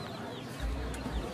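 Young chicks kept warm under a heat lamp, giving soft clucking chirps that are steady and close against a dense background hum, with no clear talk.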